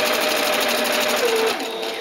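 Beginner's sewing machine stitching fabric, run with the pedal while backstitching: a fast, steady mechanical rattle, close and continuous, slowing near the end.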